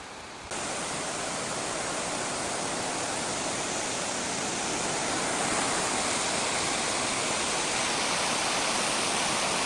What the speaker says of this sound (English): I'm not actually sure what the name of that waterfall is